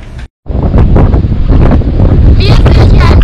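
Strong wind buffets the microphone beside the windmills on Mykonos, a loud, roaring gusty rush after a brief quiet moment.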